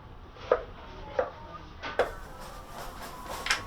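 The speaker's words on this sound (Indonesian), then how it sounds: "julang jaling kemudian dipotong kecil hingga lembut." A knife chops soaked, peeled julang jaling into small pieces on a board, four or five sharp, separate strikes spaced about a second apart, close and alone against a quiet background.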